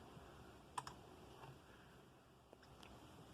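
A few light, faint keystrokes on the keyboard of a Dell OptiPlex 755 desktop computer, with quiet clicks spread out over a low background hum.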